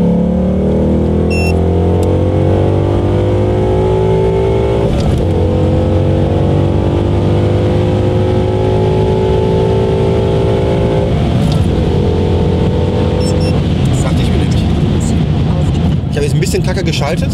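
A 2015 Ford Mustang 5.0 V8, naturally aspirated with 420 hp and a manual gearbox, roars loudly up through the revs in long rising pulls with gear changes, engine dominant and close, with talk partly under it.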